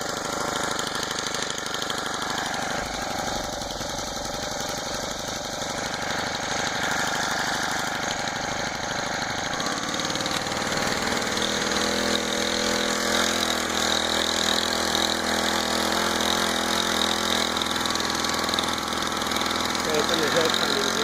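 A Honda GX25 engine on a motorized bicycle runs steadily during a ride, with a close, buzzing mid-pitched drone whose tone shifts partway through as the load changes.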